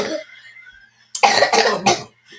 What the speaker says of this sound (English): Oh, you got a bad cough.